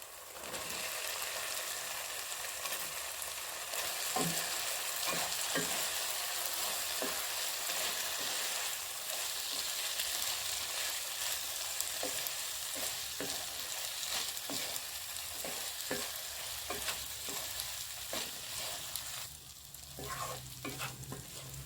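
Spicy Italian pasta tossed and stirred in a hot pan, with a steady sizzle under repeated scraping strokes of the spoon, close and continuous, no voices.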